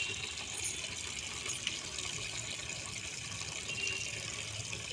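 Water gushes and splashes steadily on a rooftop, a continuous soft hiss of spray pouring down for the whole stretch, with no voices.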